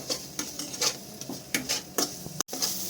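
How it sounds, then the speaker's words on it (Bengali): A spoon scrapes and stirs ginger garlic masala in a pan, with a run of rhythmic scraping strokes over a faint sizzle and no voices. "আদা রসুনের গন্ধটা না যাওয়া অবধি একটু ভালো করে নেড়ে নিতে হবে মশলাগুলোর সাথে"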